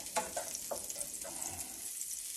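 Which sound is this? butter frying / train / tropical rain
butter frying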